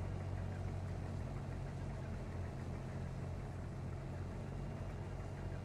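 A combine harvester idles in Farming Simulator 22, a steady, even engine drone with a low rumbling hum that holds constant throughout, close and continuous with no talk over it.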